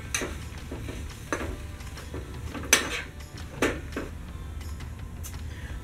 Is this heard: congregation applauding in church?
no